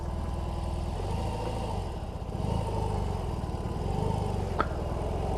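BMW R18 motorcycle engine throbbing while riding, a low, steady, close rumble with slight rises in revs and one brief click, no talk.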